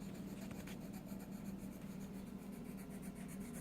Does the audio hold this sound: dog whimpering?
no